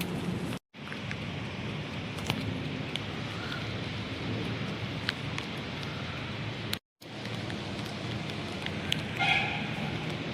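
Heavy night-time downpour in a district, a steady dense roar of rain with low rumbling thunder throughout, loud and continuous apart from two brief cutouts.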